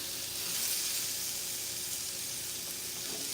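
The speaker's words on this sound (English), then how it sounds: "I'm gonna go ahead and sear. Did you guys hear the sound?" Meat sears in a hot pan on medium-high heat, giving a steady, close sizzling hiss with faint crackles throughout, with no talk.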